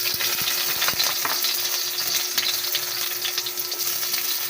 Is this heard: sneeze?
no